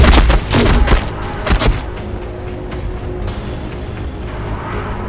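Gunfire in the Warhammer 40,000: Battlesector strategy game: several loud, close booming shots packed into the first two seconds, then a dull rumbling battlefield wash that carries on to the end.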